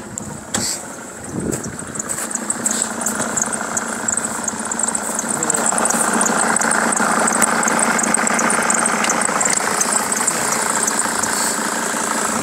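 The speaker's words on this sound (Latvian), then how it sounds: "Parādīšu, kā mašīna motoriņš rūc." The diesel engine of a Mercedes W210 E290 TD idles steadily with a low rumbling hum and faint mechanical ticking, close by and continuous, growing slightly louder midway.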